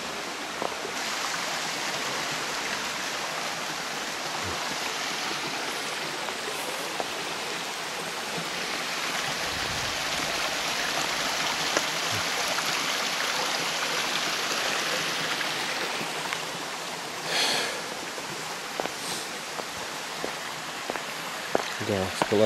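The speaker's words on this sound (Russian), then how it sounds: "Как тут у нас течет водичка." Water flowing in a stream through a rocky canyon landscape in Crimea's Grand Canyon, a steady close rushing babble filling the whole passage, with occasional faint voices and footsteps over it.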